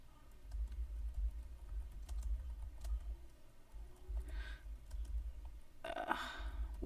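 Typing on a computer keyboard, a quick irregular patter of soft close key clicks running for several seconds at a low level, with faint background hum and a couple of brief louder noises.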